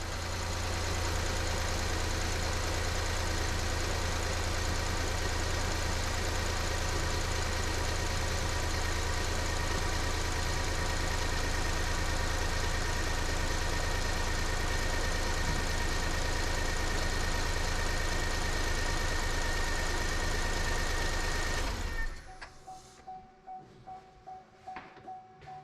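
A Chevy Equinox engine, freshly repaired after blown head gaskets, idles steadily and smoothly for about twenty seconds, close and loud, then cuts off abruptly into quiet background.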